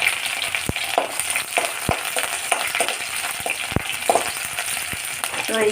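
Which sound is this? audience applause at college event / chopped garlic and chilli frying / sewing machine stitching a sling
chopped garlic and chilli frying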